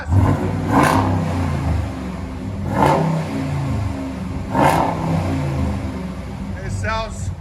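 A 2012 Dodge Ram with the 5.7L HEMI V8 and true dual Flowmaster Super 10 exhaust idles with a deep rumble, then revs loudly three times in slow succession, each burst rising and falling back to idle.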